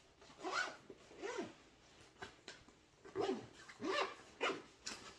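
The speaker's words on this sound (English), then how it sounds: "Making sure all the zippers work on the bag." Several quick zipper pulls rasp along a nylon bag in short bursts, with brief pauses between them, close up and fairly clear.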